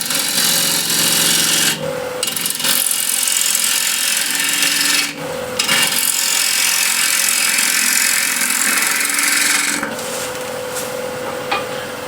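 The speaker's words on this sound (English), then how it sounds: "I'll shape this using spindle gouge for the beginning" A spindle gouge cuts a balanced wood blank on a lathe spinning at about 1300 RPM, shaping a disc flower vase; a loud, steady rasping scrape runs throughout, broken by two brief pauses as the tool lifts off.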